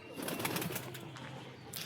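Pigeons of fancy breeds for sale, cooing softly and continuously at a moderate distance, with a low burbling coo and no talk.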